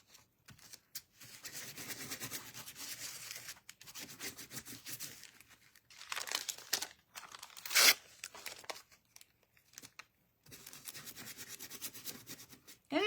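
Craft material is torn and crinkled up close in several rough, papery bursts separated by short silences, with one sharper rip near the middle.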